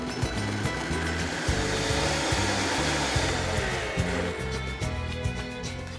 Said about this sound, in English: Turn on the blender and blend everything until you get it as smooth as possible.